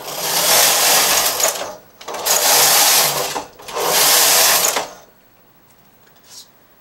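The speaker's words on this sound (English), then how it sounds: "Now I'm going to knit three more rows." A knitting machine carriage is pushed across the needle bed three times, each pass a loud, close, rasping mechanical rush lasting about a second and a half, separated by short pauses, followed by quiet and a faint click.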